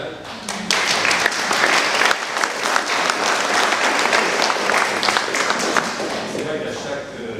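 Audience applause at a conference about the massacre at Hameau des Crottes, Labastide-de-Virac: a dense, sustained burst of clapping from a seated crowd filling the room for several seconds.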